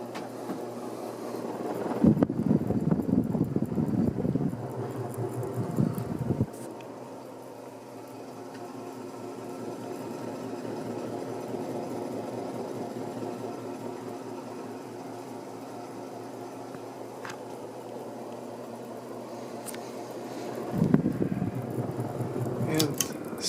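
A vintage 36-inch Hunter ceiling fan from around 1980 spins with a steady low mechanical hum and rhythmic whir, louder rumbling bursts at the start and near the end.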